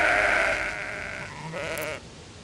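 Sheep bleat from Sudeki, a video game, on a herding field. Two loud, wavering calls sound close and clear, one after another, with no talk over them.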